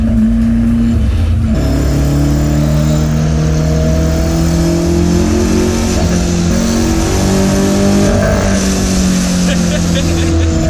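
A Toyota AE86 Trueno's individual-throttle-body 4A-GE engine roars loudly up close on mountain roads, its pitch rising and falling as it revs through the gears, with a voice speaking briefly over it.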